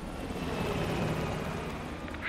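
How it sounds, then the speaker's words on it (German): Helicopter in Call of Duty: Black Ops Cold War, a close, loud rotor whir and engine roar held steady for about two seconds. "Der Heli ist entkommen!"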